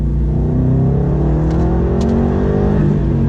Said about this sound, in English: I'm gonna go down to second gear. Let's do a second gear pull here.